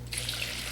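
Melted beeswax poured into a bowl, a thin steady liquid trickle with a soft splashy hiss, close and continuous over a low background hum.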